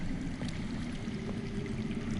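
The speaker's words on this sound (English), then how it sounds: "I hear water. From underground." Underground water flows steadily with a soft, continuous rushing and pouring hiss in the Game of Thrones Telltale game, faint and unbroken, with no other sounds standing out.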